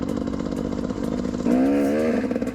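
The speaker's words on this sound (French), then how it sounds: "on se retrouve sur une vraie enduro. On a le petit embrayage hydraulique qui fait bien plaisir" A 125 DT enduro motorcycle engine with a hydraulic clutch idles with a rough, close-up putter, then revs up into a louder, rising whine about halfway through.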